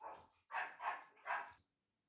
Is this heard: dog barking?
yes